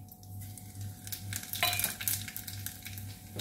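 Cumin seeds and a pinch of asafoetida sizzle in hot oil for a lauki raita tempering, a steady close frying crackle with a spoon stirring and light clinks against the pan.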